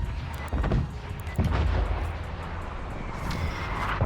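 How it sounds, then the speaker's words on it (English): Artillery strike in Call of Duty Black Ops Cold War, played on the Miami map in Search and Destroy: heavy low booms and rumbling blasts, with a strong hit near the start and another about a second later, then a sustained roar, with no talking. "Go for intel with my artillery."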